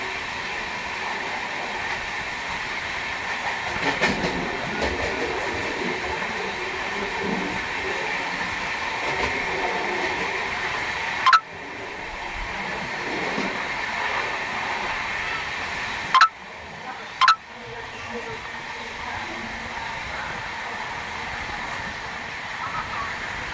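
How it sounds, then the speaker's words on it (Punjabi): A Vande Bharat train rolls past on an Indian rail line with a steady, continuous rumble and hiss of wheels on track. A few sharp clacks land near the middle, with possible faint voices in the background. "ਇਹ ਬੰਦੇ ਭਾਰਤ ਟ੍ਰੇਨ ਆਇਆ"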